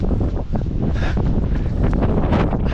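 Strong coastal wind roars into the microphone during a long run along the coast, a loud, continuous buffeting rush with gusty surges throughout.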